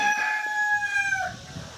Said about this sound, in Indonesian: jarang kita dengar ayam berkokok di Amerika.